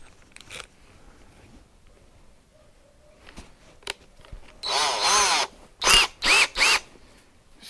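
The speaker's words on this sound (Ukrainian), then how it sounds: "Пробуем крутить у металл." A power drill bores into a 3 mm metal plate in several loud bursts: one sustained whine followed by three shorter pulses that rise and fall as the bit bites, with a few quieter knocks and handling sounds before them.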